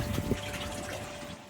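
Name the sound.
solar-powered air pump in aquaponics system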